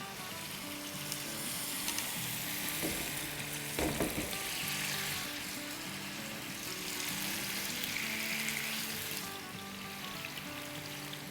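Chicken pieces spread in a pan over medium heat fry with a steady, even sizzle throughout, with a few brief clinks of utensils partway through and no voices.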